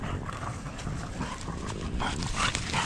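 Dogs run around loose on a woodland mushroom walk, their paws scuffling and thudding through undergrowth in a continuous rustle, with a faint whimper or yip.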